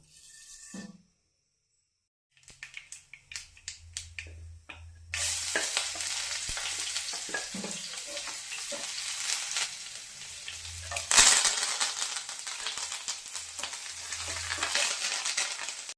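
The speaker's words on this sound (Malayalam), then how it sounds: "കടുകടിയാണ്" After a few light clinks, hot oil erupts into a loud, continuous sizzle with sharp crackles as mustard seeds splutter and pop.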